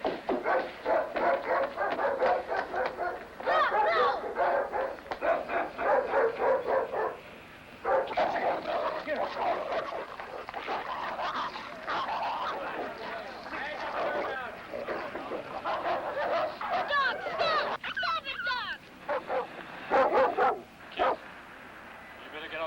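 A dog barks repeatedly in bursts, loud and close, with yips mixed in and a few short pauses, while people talk over it at times.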